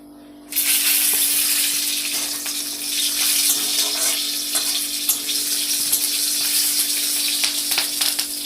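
Black cumin seeds, radish and green chili hit hot oil, bursting into a loud, continuous close sizzle that holds steady for several seconds.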